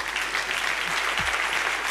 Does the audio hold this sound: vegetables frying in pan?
no